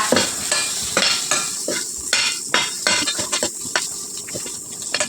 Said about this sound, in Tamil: முட்டையை சேர்த்து கொடுத்துட்டு ஒரு டைம் மசாலாவோட கிண்டி கொடுத்துக்கோங்க